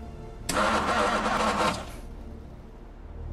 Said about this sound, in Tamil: சார் வண்டி ஸ்டார்ட் ஆக மாட்டேங்குது.